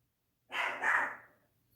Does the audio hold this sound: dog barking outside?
yes